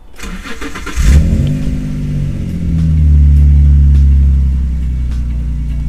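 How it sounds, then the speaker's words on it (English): Nissan 350Z / Infiniti G35 engine cranks and fires up after a quiet moment, then settles into a deep, steady idle rumble that swells slightly before easing, loud and close with no talking. "And then go ahead and start the engine and let it idle."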